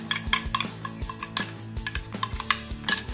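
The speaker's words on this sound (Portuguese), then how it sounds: "E vou mexer com fouet até dissolver todos os gruminhos do nosso amido" Milk and starch being whisked in a bowl for a cake-in-a-cup dessert, a rapid run of clinking metal-on-bowl taps and scraping strokes, close and fairly loud with no talking.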